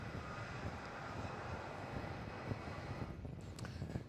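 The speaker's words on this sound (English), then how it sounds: "Well, there he is. They're taxiing out." An airliner taxiing at Melbourne Airport, heard as a faint, distant, steady jet engine rumble with light wind noise and no talking.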